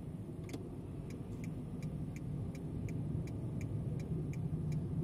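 Car accelerating on a city road during a driving lesson, steady low engine and road drone gently building, with a regular ticking, likely the turn signal, running throughout.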